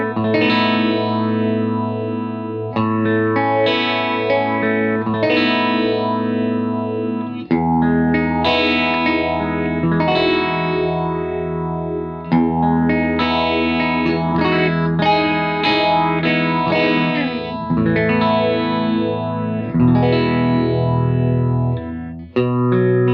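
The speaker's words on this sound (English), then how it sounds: "I just use it on a phase 90 type sound with some feedback, still fairly subtle" An electric guitar runs through a Phase 90 style analog phaser with feedback, part of a boutique all-analog pedalboard. Chords and lines play continuously for over twenty seconds, loud and lush, with a gentle swirling sweep and some grit.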